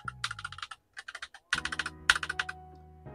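Typing on a Redragon K617M HE magnetic keyboard with pre-lubricated switches and a steel plate: quick, close clusters of crisp key clacks in short bursts with brief pauses.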